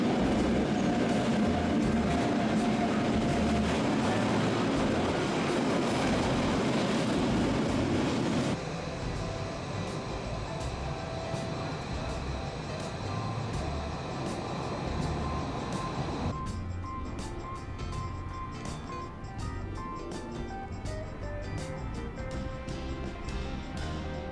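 A train rolls past on a Swiss railway line that carries both passengers and freight, a loud continuous rumble with rhythmic wheel clatter over rail joints that shifts tone partway through.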